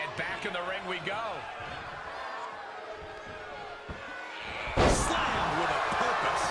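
A wrestler crashes to the canvas in an NXT ring with a single sharp, loud body-slam impact near the end, following excited commentary over a murmuring arena crowd.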